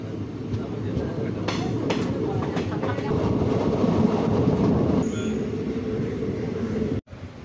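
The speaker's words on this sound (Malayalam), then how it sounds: "വണ്ടി അങ്ങാടിപ്പുറ സ്റ്റേഷൻ വിട്ടിരിക്കുകയാണ്" A train pulls away from Angadipuram station on the Shoranur–Nilambur line, a steady near rumble with rattling clatter and a few sharp knocks, cutting off abruptly near the end.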